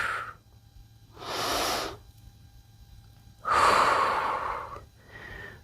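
Deep, slow breaths during a yoga-inspired stretch at home, with two long airy exhales and shorter breath sounds between them. Each is close and clear against quiet.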